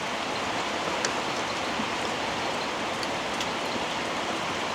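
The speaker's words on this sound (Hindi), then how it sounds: "बारिश जो है काफ़ी मस्त हो रहा है" Heavy rain falling steadily on Milling Busty village in Darjeeling, a dense unbroken hiss with scattered nearby drips and patters, constant in level and heard alone.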